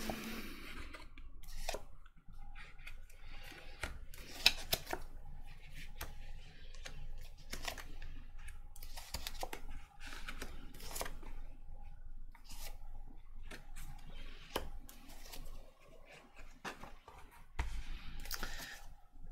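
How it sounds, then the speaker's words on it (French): Tarot cards being drawn and handled for a card reading, giving soft, irregular papery clicks and shuffling taps over a low background hum, with no voices. "Donc, je vais tirer les cartes."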